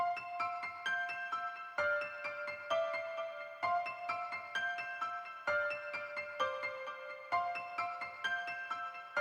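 A plucked synth melody built with ghost notes in FL Studio repeats a bright, bell-like phrase in steady bars, with a low thumping beat underneath and no voice.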